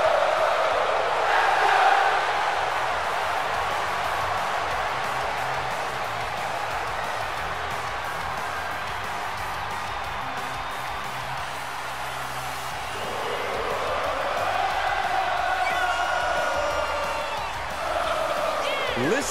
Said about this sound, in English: Listen to the energy in here for Sami Zayn.